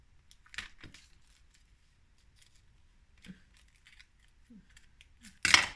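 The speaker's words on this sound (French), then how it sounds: "Là, je vais couper là aussi." Scissors cut paper for a handmade shaker tag craft, a few faint snips spread across a quiet stretch before one loud, close crisp cut near the end.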